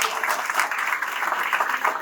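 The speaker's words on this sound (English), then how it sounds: "let's have a big round of applause for all the participants" Applause for participants at an interschool debate competition, a steady wash of many hands clapping that fills the short stretch at an even level without pause.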